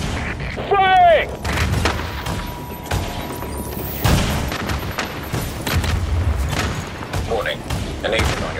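Gunfire and heavy booms in The Division video game, bursts of shots and impacts through a chaotic firefight, with game characters shouting over the action.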